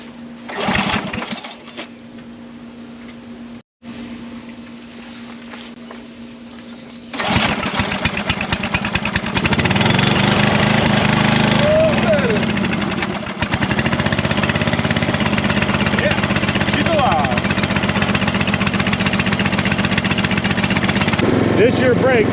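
A free Toro riding lawn mower being coaxed back to life: the engine sputters and briefly cuts out, then catches and runs loud and steady close by, with a voice talking over it.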